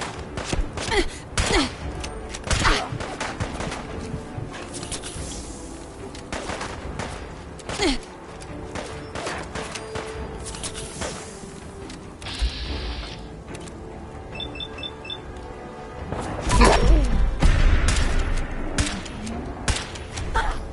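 Fallout 4 gunfire in scattered bursts and single cracks, some near and sharp, others duller, with a heavier volley toward the end and a faint voice in the mix.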